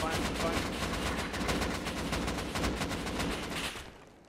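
Sustained video-game gunfire during an airfield battle, dense overlapping bursts of rapid shots close up and continuous, with voices talking over the fighting before it fades at the end.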